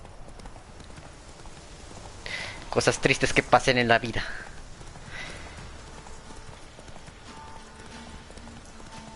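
Roach the horse galloping in The Witcher 3, a quick run of hoofbeats at mid distance that bursts up in the middle of the stretch and fades away again, with someone talking in Spanish over it.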